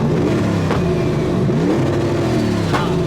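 A boosted car engine at a Powercruise event bounces off its rev limiter, loud and close, the revs cutting and surging in a rough, warbling rhythm with a brief crackle near the end.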